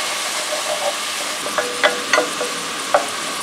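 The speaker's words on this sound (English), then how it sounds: "Stir those around, nice and fragrant." Garlic and onion sizzle steadily in a hot pan as they are stirred, with a constant frying hiss and a few light scrapes and clicks of the utensil, close up and without talk.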